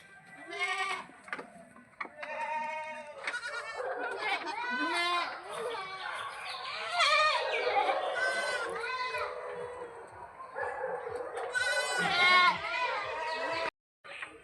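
Goats bleat repeatedly and loudly at close range inside a farm shed during winter care, their wavering calls overlapping with one another and with people talking nearby.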